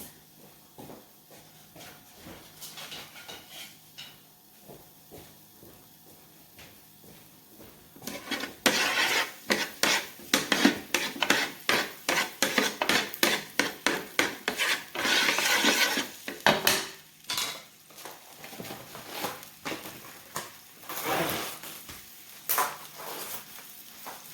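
Red onion cooking in a pan for an eggplant stir fry, a soft sizzle that turns into a busy run of scraping and clattering stirring strokes, close and fairly loud, with no talking.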